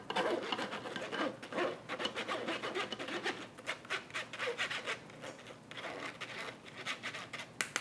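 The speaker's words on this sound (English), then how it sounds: "I put this through a sieve so I get a really fine cake." Dry cake ingredients, flour and cocoa powder, are pushed through a kitchen sieve, making soft continuous rubbing and scratchy patter at close range, steady with small pulses.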